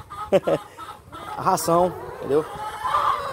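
Laying hens on a small farm flock of about 150 birds cluck in short bursts near the microphone while a person talks over them.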